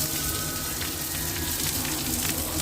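Bay leaf and dried red chillies sizzle in hot mustard oil in a pan, a steady, fairly quiet crackling hiss throughout with no voices.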